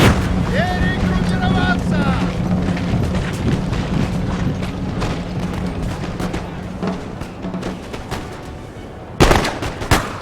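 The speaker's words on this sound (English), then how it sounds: "Ooh, you heard the canister shot." Canister shot cannon fire booms through a Napoleonic battle video game amid continuous battle din, with a loud sharp blast near the end; a voice talks over the game sounds.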